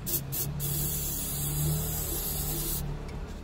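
Super glue activator sprayed onto a bottle lid: short aerosol hisses at the start, then a longer spray burst near the end, over a low background rumble.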